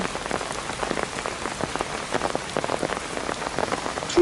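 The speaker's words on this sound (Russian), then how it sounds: "вот где меня застал дождь" Steady rain patters densely on a hard surface, close by, with scattered louder drops and no voices.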